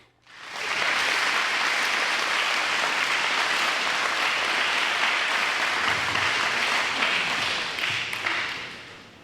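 An audience at a school Veterans' Day program breaks into loud, sustained applause, many hands clapping together in a dense, steady roar that holds for several seconds before tapering off at the end.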